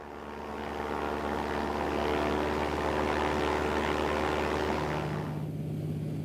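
A propeller seaplane drones overhead in Alaska, its engine hum swelling in as it approaches, holding steady and loud, then dropping away sharply near the end, with no voices.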